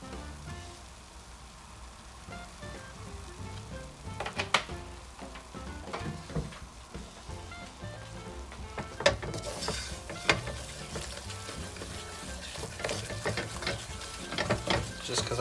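Gumbo roux being stirred in oil over medium heat, a steady scraping and stirring with faint sizzle throughout, growing busier and louder in the second half.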